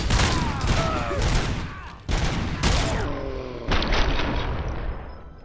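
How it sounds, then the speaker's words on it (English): Grenade blasts and gunfire erupt in the combat of RoboCop: Rogue City, loud, dense booms and crackling bursts following one another with short breaks, a game character groaning and shouting between them. "Stop throwing grenades at Robocop!"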